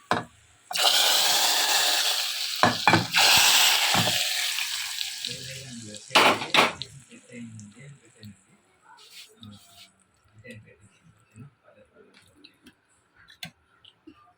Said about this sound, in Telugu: పప్పు తాలింపు వేసేసాను